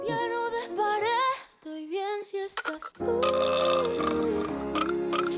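A loud, drawn-out human belch erupts over pop music playing in the background, rising above the track for a moment before the song carries on alone.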